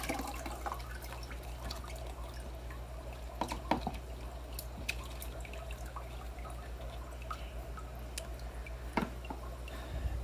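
Water and wet peat moss dumped through a fine mesh filter bag, a continuous close, squishy, dripping wash of liquid with scattered splashes, no talking.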